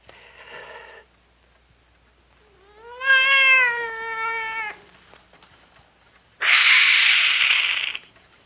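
A cat in an old black-and-white horror television thriller gives a short meow and then a long drawn-out, rising wail, followed by a harsh hissing spit, with quiet gaps between them and no speech.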